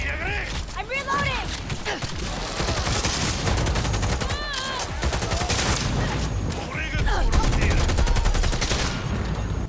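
Rapid gunfire bursts and volleys from combat in the video game Cyberpunk 2077, dense and continuous, with voiced shouts and mechanical clatter mixed in.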